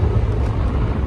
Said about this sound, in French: Donc voilà une moto thermique qui vient de passer.